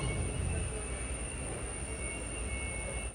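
Amrit Bharat Express sleeper train standing at a station, a steady broadband rumble and hum of the halted coaches filling the short stretch without speech.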